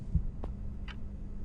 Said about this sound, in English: Oh, I just heard heartbeat.